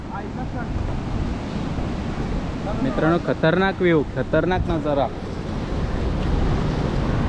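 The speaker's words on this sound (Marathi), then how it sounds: "समुद्र, वारा आणि लाटा." Sea waves and gusting wind at Cola Beach in Goa, a steady roaring wash of surf with wind buffeting the microphone, while someone speaks briefly in the middle.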